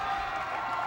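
Basketball fans in a gym crowd give off a brief burst of loud, dense cheering and clapping that holds steady throughout.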